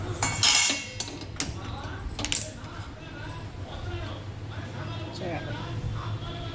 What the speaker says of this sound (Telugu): గిన్నె పెట్టాను, స్టవ్ పెట్టాను